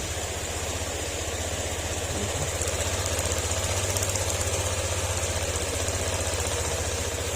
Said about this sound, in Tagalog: At tahimik na tahimik na yung kanyang makina.